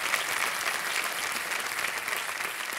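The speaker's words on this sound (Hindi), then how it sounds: "एक बार फिर जोरदार तालियां कर्नल आपके लिए" Thunderous studio audience applause on a TV quiz show set, dense, even clapping holding steady at full strength throughout.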